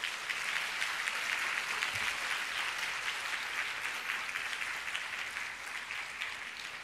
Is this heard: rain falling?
no